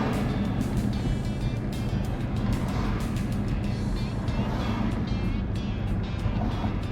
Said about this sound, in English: Traffic's actually not too terrible today